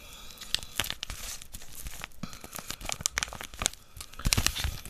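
A paper-foil packet of Knorr tomato cream soup mix is torn open and crinkled up close, sharp ripping bursts mixed with crisp rustling over several seconds.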